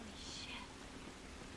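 Steady rain falling in the video game The Last of Us, a soft continuous hiss filling the short stretch at low level with no distinct drops or thunder standing out.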